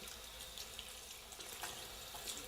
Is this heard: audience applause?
no